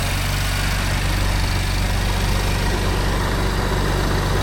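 A BMW M3 CS engine idles in a steady, loud, low rumble that stays even throughout, heard up close with no speech.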